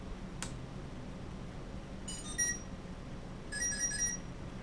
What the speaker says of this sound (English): now that last set of beeps that you just heard